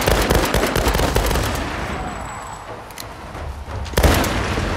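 Explosions and rapid gunfire in the action video game Tomb Raider, loud continuous bursts and booms that ease off midway before another heavy blast near the end, with no voices over them.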